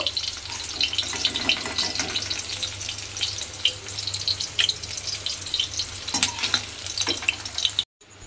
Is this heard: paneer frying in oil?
yes